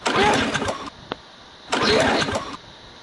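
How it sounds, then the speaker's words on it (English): An engine cranks in two bursts, the starter whirring loudly for about a second each time, with a short gap and a small click between, and it never catches or settles into running. "The engine isn't starting."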